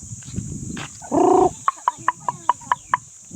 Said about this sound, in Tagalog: Ayan ang pato.